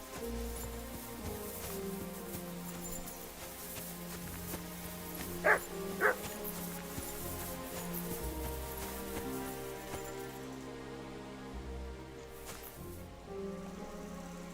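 The dog Mutt in Kingdom Come: Deliverance II gives two quick barks midway through, set against a quiet, continuous outdoor game ambience.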